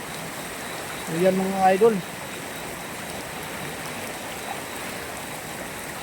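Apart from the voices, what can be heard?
floodwater flowing after heavy rain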